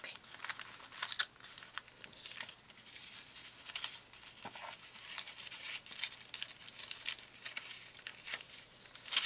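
Wrapping paper being handled and crinkled, with continuous crisp rustling and brief tearing-like crackles, close and fairly quiet, no talking.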